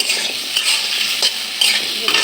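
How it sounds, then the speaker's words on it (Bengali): Potato pieces fry in oil in a pan with salt and turmeric, giving a loud, close, bright sizzle broken by quick stirring scrapes. "এখন আমি আলুটা ভেজে নিচ্ছি। আলুতে লবণ, হলুদের সাথে"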